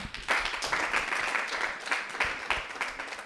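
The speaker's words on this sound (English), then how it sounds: "I think we can add more claps to her." Audience applause at a girls' organization conference in Nairobi, a dense burst of many people clapping that swells and fades in waves, close and lively.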